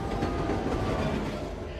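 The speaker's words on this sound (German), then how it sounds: "Schnell! Stoppen wir den Zug!" A train rolls along its rails in the Disneyland Adventures video game, a steady rumbling clatter with faint rhythmic clicks of the wheels, continuous and fairly close, with no talk over it.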